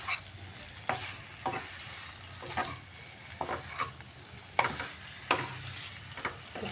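An omelette cooking down with spices in a pan, frying steadily while a utensil scrapes and stirs it in repeated strokes, close and moderately loud, with no voices.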